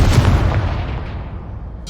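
A Confringo blasting spell blast in Hogwarts Legacy, a loud close boom with a rumbling body that fades steadily over about two seconds.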